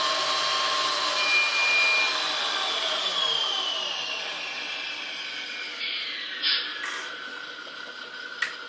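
Ride-on vehicle's electric motor whirring steadily in first gear, a smooth high drone with a slowly falling pitch, close and fairly constant, with a few brief higher squeaks near the end.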